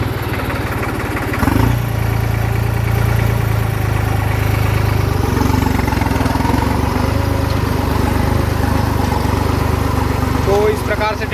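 A tractor engine runs in a maize field that is being prepared for sowing mung beans. It produces a loud, steady, rough drone that swells slightly after the first second and holds continuously.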